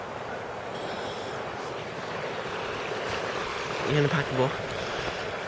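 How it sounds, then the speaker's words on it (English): Wind rushes steadily across the microphone with a low rumble, and a person speaks briefly partway through over the noise. "Find somewhere that's not so windy."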